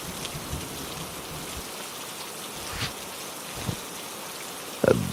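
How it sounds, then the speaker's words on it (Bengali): Heavy rain pours in a cartoon scene, a steady wash of falling drops with a few louder splashes and a sharp knock near the end. "মনে হচ্ছে আরো জোরে বৃষ্টি নামবে।"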